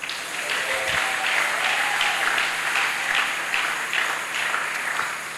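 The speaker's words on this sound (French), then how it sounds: "Quelqu'un dit Amen en acclamant le Seigneur" A church congregation applauds in acclamation of the Lord, steady, dense clapping from a crowd that holds evenly for several seconds.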